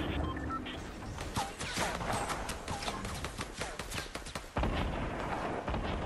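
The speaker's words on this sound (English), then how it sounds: "I hear somebody firing over the lip of this hill." Rapid bursts of gunfire crackle in a Fortnite Battle Royale match, repeated sharp shots clustered through the clip amid other game noise, with some shots sounding distant over a hill.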